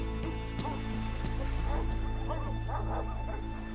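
Dogs bark and yip in scattered bursts over a steady low hum and background patter, the calls moderately close and fairly faint against the constant drone.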